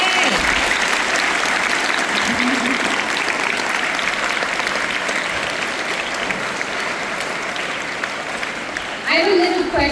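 Schoolchildren at GopiKrishna School in Proddatur clap for themselves in a loud, sustained round of crowd applause lasting nearly ten seconds, with a voice breaking in over the clapping at the very end.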